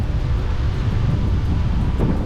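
Cold winter wind buffets the microphone near Bear Island Fort in Sydney, Australia, a loud, continuous low rumble with gusty fluctuations and no voices.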